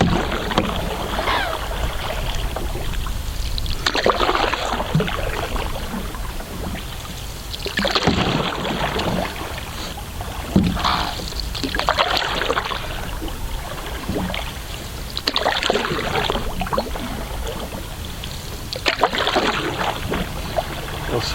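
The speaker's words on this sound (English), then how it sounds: "I've usually always taken kayaks on a trip, so I've never really taken a canoe" Canoe paddle strokes dipping into the River Wensum, rhythmic splashes and water swirls repeating every few seconds close by, with light trickling in between.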